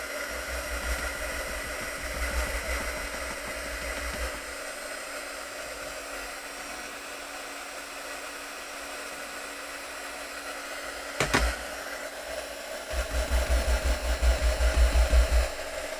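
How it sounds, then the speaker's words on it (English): A heat gun blowing hot air for crafting, a steady airy whir held at a constant level, with a brief clatter near the end and the motor note swelling louder in the final seconds. "Let me get that glue, the heat gun out."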